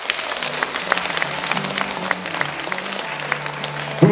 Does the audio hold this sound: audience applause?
yes